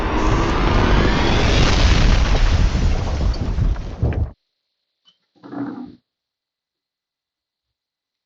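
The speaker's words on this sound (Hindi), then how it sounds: "इस जगह को भी बम से उड़ा देता है।" A large explosion blows up a building with a loud, roaring blast that rumbles for about four seconds and then cuts off abruptly. A brief muffled thud follows before silence.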